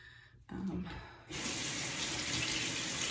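A tap runs for hand washing: after brief quieter sounds, the water bursts on and then pours loudly and steadily, close by.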